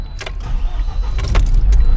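A new 2025 Tata LPT 1816 BS6 phase 2 diesel truck cranks and fires up in neutral, a loud low rumble building and settling into an idle, with keys jangling near the ignition.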